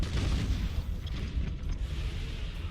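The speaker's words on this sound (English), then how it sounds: "And torpedoes are firing." Torpedoes launching from a spaceship in Battlefleet Gothic Armada, a low rumbling boom that swells and rolls on as a sustained heavy roar, with a few faint thuds inside it and no voices.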